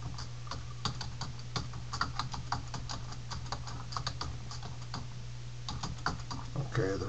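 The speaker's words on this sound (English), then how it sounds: "I'm going to press Enter first, and then I'm going to start typing some sentence like the rain in Spain" Rapid typing on a computer keyboard while entering a sentence in Microsoft Word, with irregular close keystroke clicks running steadily through the clip over a low constant hum.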